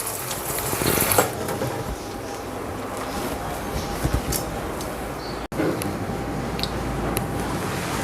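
Pieces of shark fish are rinsed under a running kitchen tap, a steady hiss of flowing water with occasional splashes and a brief break partway through.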